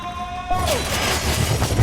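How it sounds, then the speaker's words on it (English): Glass shatters in Quantum Break. A sudden broadband crash breaks over a faint tonal hum and trails into a sustained rumbling spill of debris, loud and close. "This glass is gonna come apart!"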